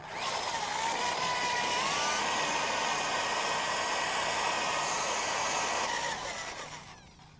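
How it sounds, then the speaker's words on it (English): Steady, loud abrasive whirring of a power sander grinding rust and loose paint off a car panel with 80-grit sandpaper, running continuously up close before winding down at the end. "Now that we've sanded all the rust and the loose paint"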